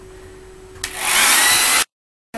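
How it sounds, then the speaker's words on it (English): A hair dryer switches on with a loud, steady broadband whoosh for about a second, then cuts off abruptly, followed by a brief restart. "I'm just going to blast it with a hairdryer as well to make sure it's evenly hot"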